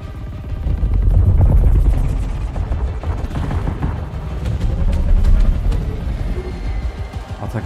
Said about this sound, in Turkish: Burada da helikopterlerin savaşları.